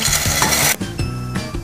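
Dry fusilli pasta goes into a pot of boiling water: a loud, dense rush of rattling and splashing for under a second, then a lower rolling, bubbling churn with brief clatters.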